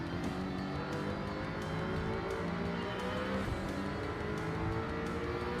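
Steady engine drone of an Audi race car in a night race through Tokyo in a racing video game, a constant loud whine with rising gear tones and no talking.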